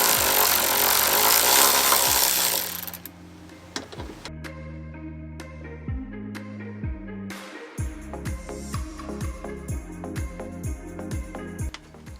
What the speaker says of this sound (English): I'm going to go ahead and use my 10mm socket